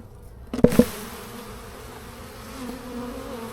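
Honey bees buzz steadily at a hive in a soft, continuous hum, with a couple of louder close passes near the start as individual bees fly by.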